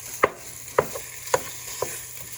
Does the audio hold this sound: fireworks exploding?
no